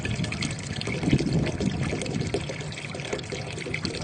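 Muddy tap water in the Tasbuget settlement of Kyzylorda pours out in a steady, fairly loud splashing rush that continues unbroken throughout, with no voices over it.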